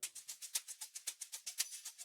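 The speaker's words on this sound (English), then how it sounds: "you find yourself a nice shaker loop like this" A shaker loop for a deep house track plays alone, a crisp, bright rhythm of about fourteen quick even shakes in two seconds with a steady swing.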